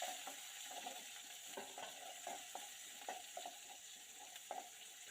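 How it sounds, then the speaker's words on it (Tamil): Crushed shallots and garlic fry in oil for a hotel-style sambar. A soft, steady sizzle runs throughout, broken by repeated stirring scrapes and clicks at an irregular pace, with no talking. "நல்லா ஃப்ரை பண்ணிக்கலாம்."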